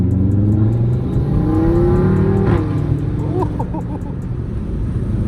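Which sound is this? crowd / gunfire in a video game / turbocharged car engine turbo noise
turbocharged car engine turbo noise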